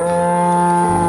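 A loud, sustained moo from a spotted black-and-white dairy cow, a single steady tonal bellow heard up close with no talk over it.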